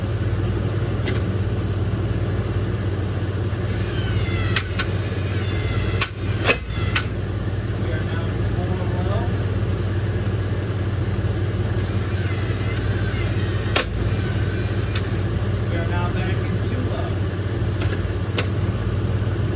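Steady low mechanical drone of a truck drivetrain in two-wheel high, heard from underneath the truck, with a constant engine hum and a few sharp metallic clicks and knocks.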